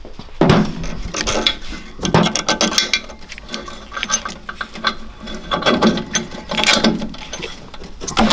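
A ratchet tightens new bolts on an upgraded steering rack for a Predator 670cc Yerfdog Spiderbox front end, loud and close, in fast clicking bursts with metallic clanks between strokes.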